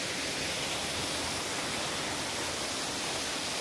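Chattupara waterfall in the forest pours with a steady, dense rush of water, a continuous roar at even loudness from start to finish with no voices over it.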